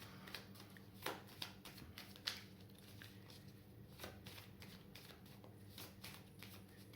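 A deck of cards is shuffled for a reading, giving quick papery riffles and soft slaps in irregular bursts, close and fairly quiet against a still room.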